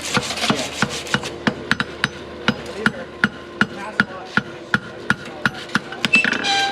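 A farrier at a clinic rasps a horse's hoof in brisk, evenly spaced strokes, about twenty sharp scraping rasps in quick succession, close and clear over a quiet background.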